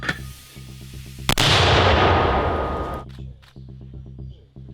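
A single loud, booming mortar shot bursts out during fighting in Kharkiv region, its blast rolling and decaying over a couple of seconds amid a steady mechanical hum.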